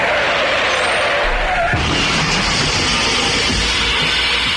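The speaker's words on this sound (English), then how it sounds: "Hey, I haven't crashed a car in a while." A car skidding and crashing as a sound effect on a comedy podcast, with a loud continuous screech and roar that breaks into a heavier impact burst partway through and carries on noisily to the end.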